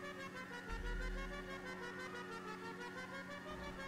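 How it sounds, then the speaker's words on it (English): A motorbike horn in GTA 5 blares without stopping, a steady tonal honk held through the whole stretch, loud and continuous over a low game rumble. "It's on full throttle and honking, and I can't drive it."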